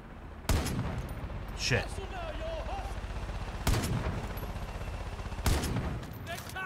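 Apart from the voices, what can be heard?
gunfire with piercing ammo in the video game Far Cry 5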